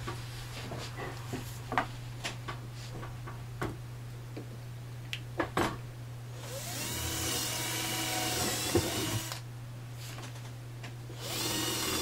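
A power drill bores holes in wood, heard as a whining drilling burst in the middle, with scattered ticks and knocks of handling before it and a steady hum throughout.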